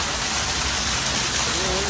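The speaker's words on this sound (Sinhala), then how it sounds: "ඉතින් මෙතන මේ පොඩි ඇල පාරක් තියෙනවා මේ. වතුර පාරක් එනවා." A small stream of icy cold water flows nearby in the Nuwara Eliya hills, making a steady, close broadband rush that holds even and unbroken throughout.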